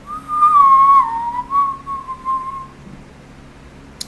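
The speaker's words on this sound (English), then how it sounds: "Yes, I can whistle." A person whistles a single sustained, wavering tune, clear and close, trailing off after a few seconds into quiet.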